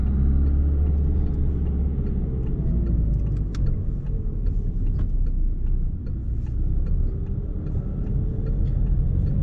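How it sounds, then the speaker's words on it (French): A Renault Megane pulls away on a hill start with extra throttle, its engine a steady mid-pitched rumble that holds loud and close inside the cabin throughout, with no talking. "Démarrage en côte, un peu plus de punch."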